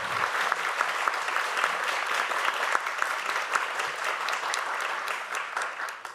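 Steady applause from an audience at a panel discussion, welcoming a floor leader back to the stage; dense, even clapping that carries on for several seconds without pause.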